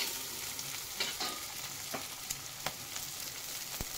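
Oil sizzles steadily in a pan while sautéing aromatics for octopus adobo, a soft continuous hiss with a few light clicks and taps of utensils, fairly quiet and up close.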